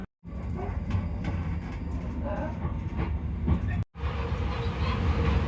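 A train carriage runs on rails approaching Livingston North, giving a loud steady rumble with rhythmic wheel clatter, a brief dropout of sound partway through, then the rolling noise continuing.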